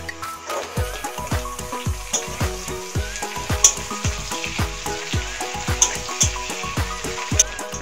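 Dried fish sizzling in a pan of fried onions, with steady loud frying and a regular rhythm of spatula strikes and stirring scrapes against the pan throughout, no voices.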